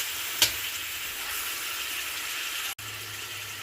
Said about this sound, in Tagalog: Igisa po natin siya hanggang sa maging medyo mag-brown para mas masarap at saka mas mabango siya.